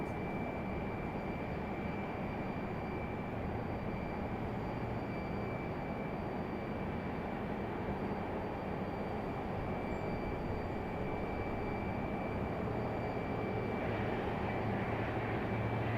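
An American Airlines jet at Raleigh-Durham airport gives off a steady, broad engine roar that holds evenly for the whole stretch, loud and continuous with no talk over it.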